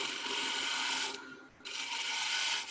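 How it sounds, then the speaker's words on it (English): A turning tool makes a shear scraping cut on a wooden wave bowl spinning on a lathe. The rasping scrape comes close and steady in two passes, with a brief gap between them. "so I can just do a little shear scraping cut"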